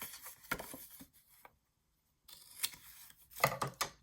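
Scissors snip through paper while a gift card wallet is being cut to shape, giving a few short crisp cuts close by with a quiet pause in the middle.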